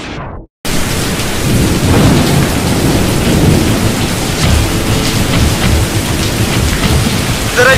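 Steady heavy rain pours down, a dense roar with low rumbles of thunder rolling underneath, continuous and close after a brief silent start.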